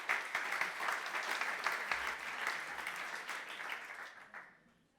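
Audience applause for a speaker at a French conference session on law-firm cyber threats, steady dense clapping that fades out over the last second.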